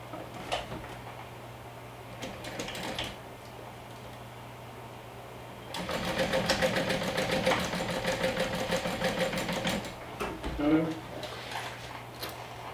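A sewing machine top-stitches a seam allowance toward a gusset lining. Its needle ticks in short runs, then keeps up a longer steady rattling burst over a quiet hum, with talk in between.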